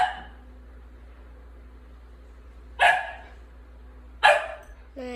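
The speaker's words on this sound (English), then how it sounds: "My puppy Mackenzie's barking." A puppy gives two sharp, loud barks a second and a half apart, with a brief yip at the very end, against a quiet indoor background.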